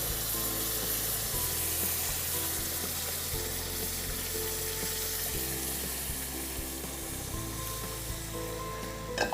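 Liquid poured into hot roasted semolina for halwa, sizzling and bubbling loudly and steadily in the pan, with watery splashing and stirring throughout.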